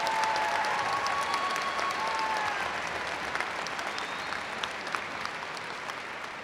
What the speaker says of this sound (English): Please give a round of applause in recognition of the guests I've introduced.